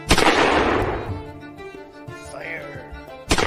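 Pistol and cannon gunfire in a pirate-style naval battle, with a loud broadband blast at the start that decays over about a second, a ringing tail, and another sharp report at the end.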